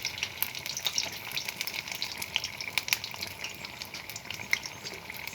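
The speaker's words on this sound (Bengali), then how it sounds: "একটু খুন্তি দিয়ে এভাবে চেপে চেপে দেবেন।" A chop frying in a pan while a spatula presses it down, producing a continuous bright crackling sizzle of hot oil, fairly quiet and close, with scattered pops and no voices.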